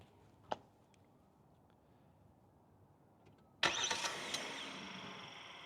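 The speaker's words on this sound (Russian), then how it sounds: "И можно заводить автомобиль на расстоянии." A 2026 Hyundai Palisade engine is started remotely: a faint click, then a few seconds of quiet before the engine cranks and catches, settling into a steady idle close by.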